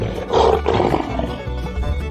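A lion roars in a deep, rough burst that swells and then trails off into lower growls, close and loud, as a cartoon-style animal sound effect.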